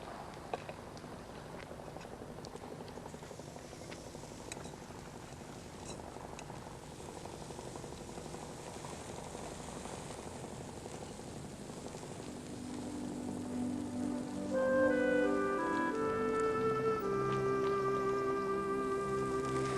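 Prawns sizzle on a charcoal grill in Sicily, a steady crackling hiss throughout, joined near the end by rising music.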